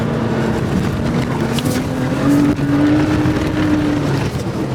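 A Toyota Tacoma truck labours up a sand hill off-road, its engine droning loud and close with a steady whine that rises in pitch under strain, briefly dipping before pulling on.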